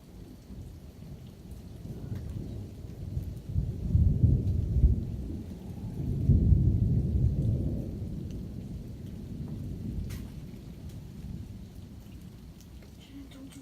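Thunder rumbles and rain falls steadily during a thunderstorm at a house, with two swelling low rolls of thunder over continuous rainfall, close and moderately loud, no voices.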